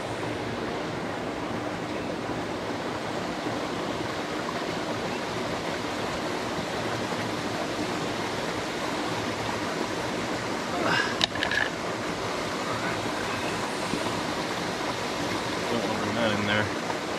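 Steady broadband rush of river water flowing through a rainforest, continuous and close, with a few brief splashes near the end.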